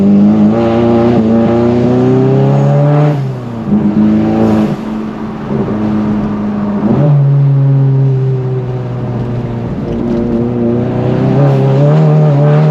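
A VW Golf GTI fitted with an IS38 turbo doing rolling burnouts in the rain, its engine droning loud and close the whole time as the revs climb and fall in repeated surges.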